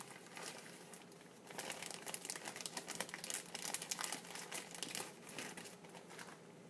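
Crinkling of a Ziploc plastic bag being handled up close, a steady rustle with sharper crackling bursts through the middle, no voices.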